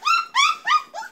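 Four short, high-pitched whimpers from puppies in quick succession, close and clear, each rising then falling slightly.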